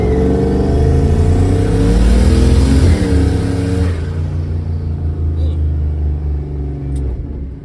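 An LS V8-swapped Studebaker car accelerates hard from a stoplight, its engine roaring loud and close, building in pitch before easing off as it shifts; a voice talks briefly.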